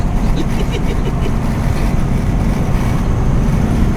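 A Volvo F16 intercooler truck engine rumbles loudly and steadily close by, a dense low drone that holds without a break.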